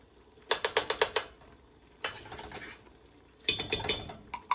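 Tomato paste being stirred into beef stew in a pot, heard as three bursts of quick, rhythmic scraping and clicking, each lasting about a second, with short pauses between them and no talking.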